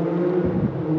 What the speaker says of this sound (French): oups, un petit vent